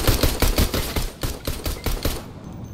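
Rapid bursts of automatic gunfire in the Fortnite Battle Royale video game, roughly a dozen sharp, loud shots in quick rhythm, close and dominant, fading at the end.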